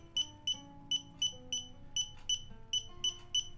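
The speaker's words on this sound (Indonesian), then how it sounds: "buzzer juga terdengar menyala di 31 derajat" Short electronic buzzer beeps from an ESP32 temperature alarm triggered at 31 degrees repeat at a steady rhythm, about three per second, with a low hum and faint tones underneath.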